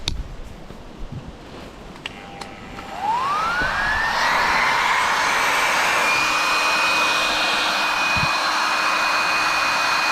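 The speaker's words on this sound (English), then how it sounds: "First thing I'm going to try doing is blowing up this air mattress. Got a little battery powered pump here." Small battery-powered pump inflating an air mattress in a tent, switching on after a few soft clicks and spinning up to a steady, loud whine with a high-pitched tone that holds to the end.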